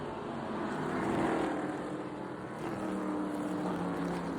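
Street stock race cars racing at Russell's M40 Speedway during a feature race: a steady, droning roar of engines heard from some distance in the grandstands, swelling slightly as the cars pass, with no talk.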